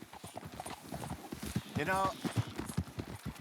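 Horse hooves clip-clopping at a steady pace while riding in the Red Dead Redemption video game, a rhythmic patter under continuous conversation between characters, with a brief horse whinny midway.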